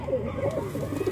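Pigeon cooing softly in a loft in Jammu, a brief low burbling call heard close up, with a faint voice in the background.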